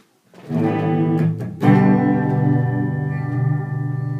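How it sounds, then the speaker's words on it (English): A sustained electric guitar chord rings out loudly with a swirling, sweeping flanger effect, restruck once and left to sustain. "Nice bit of flange."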